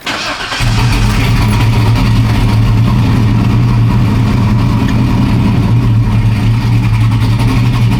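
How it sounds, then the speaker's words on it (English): An LS-swapped OBS Chevy truck engine turns over and catches, then runs at a loud, steady, droning idle close by while it is shifted through the gears. "we're trying to fill up the trans with fluid, so we're starting it up, running it through gears, letting it heat up"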